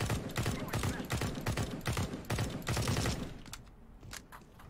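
Rapid automatic AK-47 rifle fire in a Counter-Strike match, dense bursts of sharp repeated shots that run for several seconds, then thin out into a few scattered cracks.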